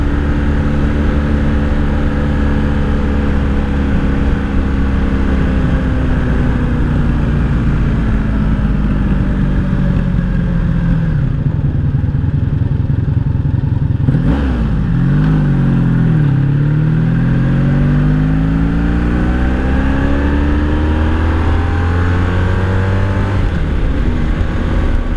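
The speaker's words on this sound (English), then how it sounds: "It doesn't get much smoother than a 80s built Honda. Engine wise, it just purrs." A 1984 Honda V65 Sabre VF1100S motorcycle carrying two riders on a back road, its engine a steady, smooth hum throughout, with a brief dip and rising revs midway as it slows and pulls away again.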